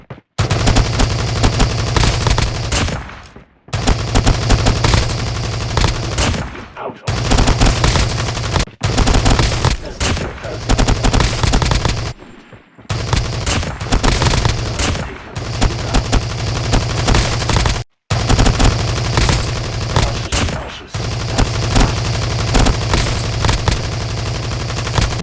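Loud, close bursts of rapid automatic gunfire in a shooting video game during aim-down-sights tests, sustained long strings broken by brief silent gaps.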